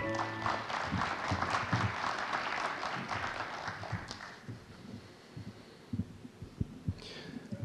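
An audience at a 2017 international organizations and MICE career fair applauds to welcome a speaker. The dense clapping fades after about four seconds into a few scattered claps and low thumps.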